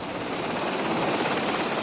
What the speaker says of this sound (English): We're flying the SH-60 Bravo Seahawk.